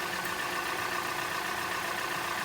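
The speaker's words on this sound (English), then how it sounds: "So right now that's idling." A Hyundai Elantra with a stalling problem idles steadily, a close, even engine hum and rumble that holds without change for the whole stretch.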